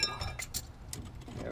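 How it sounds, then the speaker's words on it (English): Metallic tapping on a rusty bolt in the shock mount of a 2008 Jeep Grand Cherokee, a few light clinking hits at an uneven pace, close and clear. "keep tapping that bolt out of there"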